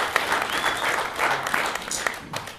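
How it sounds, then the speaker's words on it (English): An audience at a Valentine's founding event claps in a brief, steady burst of applause, close and moderately loud, with a faint voice over it. "applause for that."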